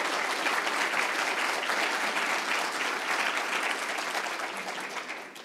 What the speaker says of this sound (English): Please, let's welcome the speakers and give them a round of applause.